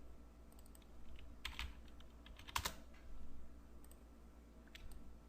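Computer keyboard keys being typed in a short burst of quiet clicks, faint and close, while a web page header is laid out.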